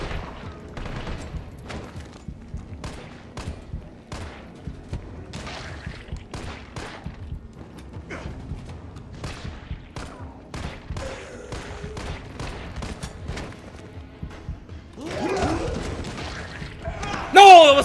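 In the Resident Evil 3 Remake, a handgun fires in a steady run of sharp, close shots spaced about half a second apart, with a louder burst near the end and a voice talking over it.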